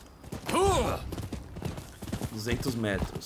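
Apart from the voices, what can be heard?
horse galloping in Rise of the Ronin video game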